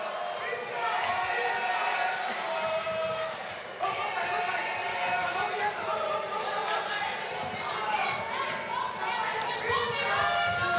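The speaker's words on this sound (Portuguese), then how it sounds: "Torcida a favor do Geno agora, gritando bastante." Boxing event crowd, shouting and cheering loudly for fighter Gheno during the third round, a dense steady roar of many voices with commentary talking over it throughout.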